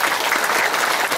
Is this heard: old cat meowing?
no